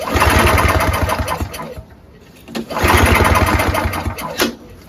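A flooded Craftsman single-stage snowblower with a 5HP Tecumseh engine and its spark plug removed is pull-started twice, each pull a close, rapid chugging of the cranking engine with a short pause between, and no one speaking.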